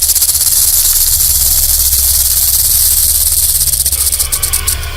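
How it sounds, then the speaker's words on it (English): A rattlesnake shaking its rattle, heard as a loud, continuous dry buzzing hiss held steady for several seconds, with faint flickering pulses near the end. "The older the rattlesnake gets, the longer its rattle."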